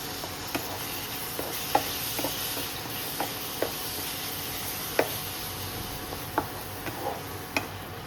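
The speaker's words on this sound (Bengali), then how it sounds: "দিয়ে মশলাগুলো এবার ভালো করে কষিয়ে নিই" Spices cook down in a pan with a little water for a Chinese-style catla fish and capsicum dish, giving a low, steady sizzle and hiss broken by light, regular spatula taps, close and without talk.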